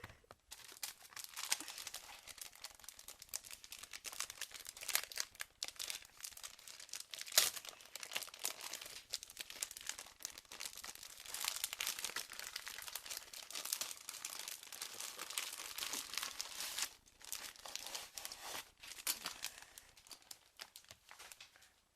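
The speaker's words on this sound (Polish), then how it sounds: "już się nie mogę doczekać, więc otwieramy sobie magazyn" Plastic wrapping crinkles and tears close up as a Lego Star Wars comic magazine is opened, a long stretch of irregular rustling with sharper crackles and a brief louder rip partway through.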